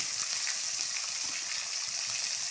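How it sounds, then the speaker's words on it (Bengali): Ginger paste sizzling in the hot oil left from frying fish, a continuous, even hiss filling the short stretch with no voices. "ওই মাছ ভাজার তেলেই দিয়ে দিলাম বড় চামচের 1 চামচ আদা"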